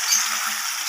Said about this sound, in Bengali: দেখুন, আরও একবার আমি কষিয়ে নিচ্ছি এইভাবে